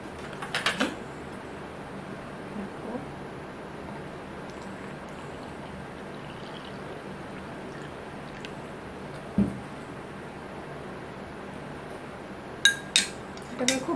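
A spoon clinks against a bowl while stirring a lentil mixture with water, giving a few sharp taps near the start and at the end over a low steady background hiss.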